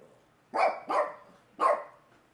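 Pet dogs give three sharp barks close by, two in quick succession and then one more after a short pause, in an otherwise quiet room.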